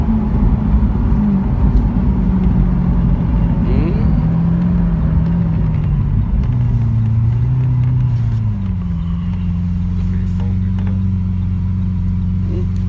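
A Lamborghini pulls onto a freeway near Bellevue during an Italian sports car outing, its engine a loud, close droning rumble that shifts pitch as it accelerates and changes gear, with people talking over it.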